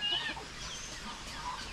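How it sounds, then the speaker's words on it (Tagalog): Chickens cluck on a small backyard farm, a few soft, scattered calls over steady outdoor background noise, with no clear talk. "May mga manok."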